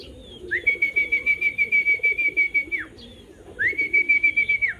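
Racing pigeons at a loft in Muntinlupa, Manila: a rhythmic, pulsing coo-like murmur runs beneath two long, steady high whistles.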